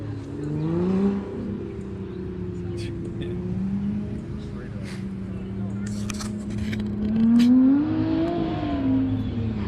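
Classic British sports cars, including Austin-Healey 3000s, race past at a car museum track, engines droning and swelling as they approach and pass, with people talking over the noise.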